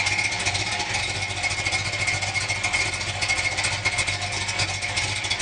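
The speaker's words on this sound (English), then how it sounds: "It's got Flowmaster exhaust. It's got a real healthy cam note." A 1963 Plymouth Savoy with a 426 wedge V8, solid-lift cam and Flowmaster exhaust idles steadily nearby, a continuous loud rumble with a lumpy cam beat and no voices.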